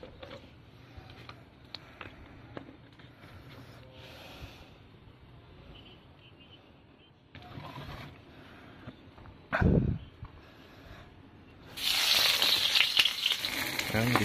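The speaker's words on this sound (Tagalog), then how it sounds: "Ayan, gisa-gisa muna tayo." Sliced onions dropped into hot cooking oil in a pan for a tilapia and noodle dish, a sudden burst of loud sizzling and frying that rises after quieter kitchen handling sounds.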